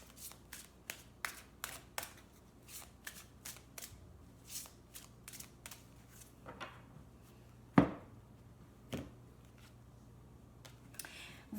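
Angel oracle cards being shuffled by hand, a series of quick crisp riffling bursts in an irregular rhythm, close and fairly quiet, with one louder knock partway through.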